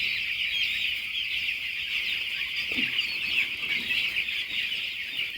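Broiler chicks in a poultry shed on their seventh day, a dense, steady chorus of high peeping and chirping that fills the space at a constant loud level, with no talk.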